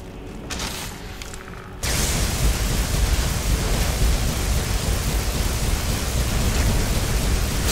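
In Skyrim, a thunderstorm spell cast on a Draugr Deathlord: after a quieter opening, a loud, dense roar like pounding rain and rumbling thunder bursts in and holds steady to the end.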